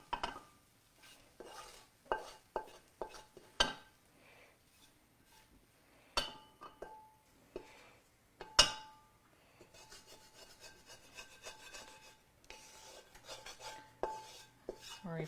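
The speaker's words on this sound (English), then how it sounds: "Sorry for all the scraping." A utensil scrapes and stirs noodles in a bowl, producing irregular close clinks and short scraping strokes, with a burst of continuous rubbing in the middle and quiet gaps between.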